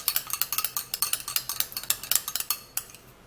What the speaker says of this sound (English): Now you would have to give it a little stir and make sure that the honey and the aloe vera actually mix together really good.